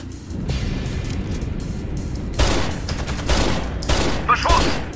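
Rapid bursts of automatic gunfire in the tactical shooter game Rainbow Six Vegas, quieter at first and then growing into loud, dense volleys in the second half, with some brief metallic pings.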